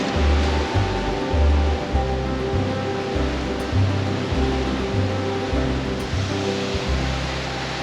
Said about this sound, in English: I have just found another waterfall surrounded by incredible views